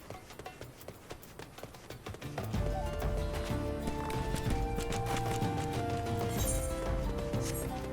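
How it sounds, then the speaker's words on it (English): Footsteps in the video game Final Fantasy XIV, rapid hoof-like clopping steps that start faint and grow louder as background music swells in under them. "I think it's just my own footsteps."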